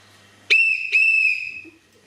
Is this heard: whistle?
yes